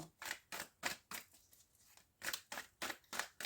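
A deck of tarot cards is handled and cut in a quiet room, giving a rhythmic series of soft papery swishes, about nine in all with a short lull midway, faint and close with no talking.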